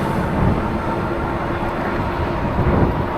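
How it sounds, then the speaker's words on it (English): A failing e-bike motor whirs during a street commute ride from Irvine to Orange, a loud, steady droning hum blended with wind and road rumble throughout. "the sound of my failing motor"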